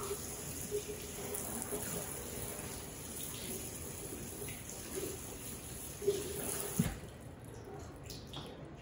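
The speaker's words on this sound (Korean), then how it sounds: "마지막으로 한 번 더 찬물에서 바닥바닥 문질러서 씻어주시고요" Bellflower root rubbed and washed by hand in cold water, with continuous close splashing and sloshing, a few sharper knocks and splashes, and faint talk in the background.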